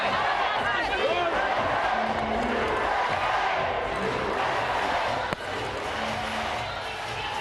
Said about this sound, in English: Fans here are cheering on with the familiar USA chant